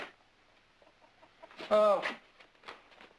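A chicken gives a single loud squawking cluck, brief and close, set against a quiet background with faint scattered sounds.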